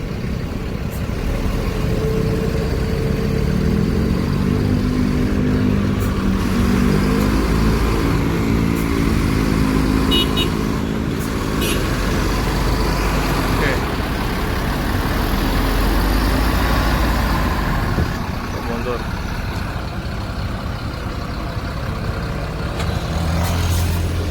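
A heavy Sinar Jaya bus engine rumbles steadily at close range as the bus reverses slowly, with the deep drone rising and falling slightly throughout.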